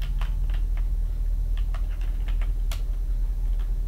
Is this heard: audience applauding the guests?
no